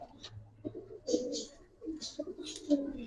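A pair of silver punky pigeons coo in a loft, giving soft throaty coos and chirps that come in short bursts, with faint voices nearby.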